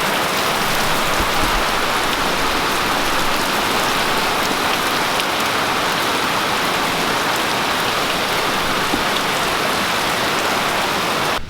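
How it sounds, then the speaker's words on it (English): Heavy rain pouring down on a market garden, a loud, dense, unbroken hiss of water striking surfaces close by, steady throughout with no voices. "This is some serious rain."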